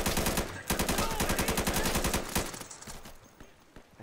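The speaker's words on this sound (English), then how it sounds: "I just wasted an entire mag trying to shoot that guy" A long burst of rapid automatic gunfire in the tactical shooter Insurgency empties a whole magazine. The loud, evenly spaced shots run for nearly two seconds, then trail into fainter scattered fire and noise.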